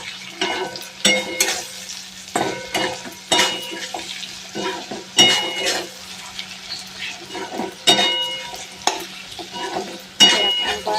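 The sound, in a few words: stirring chorchori in a pan after adding sugar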